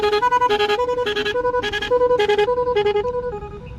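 Rapid, loud musical horn toots cycle through shifting tones in a fast repeating pattern, close up, fading slightly at the end.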